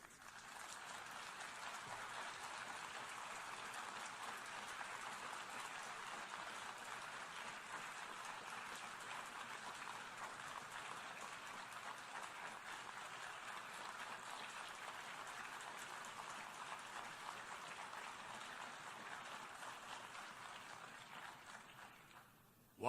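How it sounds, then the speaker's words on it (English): Sustained applause fills the UN General Assembly hall, a steady distant wash of clapping that holds for over twenty seconds before tapering off at the end. "sustained applause for the Prime Minister of Israel and the General Assembly"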